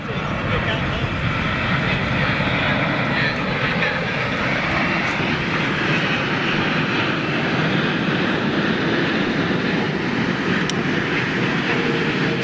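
A British Airways jumbo jet lands at London Heathrow. A loud, steady roar of engines and rushing air fills the whole stretch without a break, with its undercarriage touching down on the runway close by.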